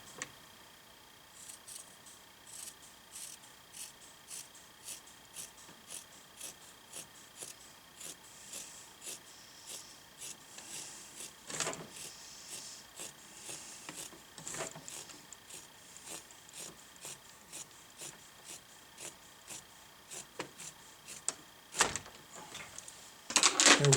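Scissors snip through warp threads to cut a finished rep weaving off the loom, a long run of close, evenly spaced sharp clicks with a few louder clacks, and no talk.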